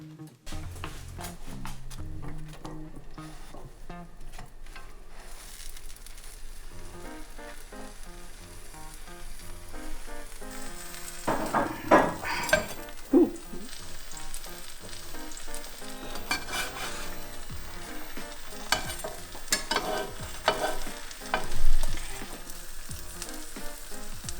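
A grilled cheese sandwich fries slowly in olive oil over low heat, giving a steady close sizzle and crackle for a long stretch, with louder pops and spatters toward the end.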